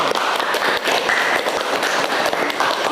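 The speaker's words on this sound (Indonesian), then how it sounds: "Oke, luar biasa, tepuk tangan Pak Tasya." Classroom applause for a presenter at a university lecture, a short burst of clapping from a group of students, fairly close and continuous, with some scattered sharper claps.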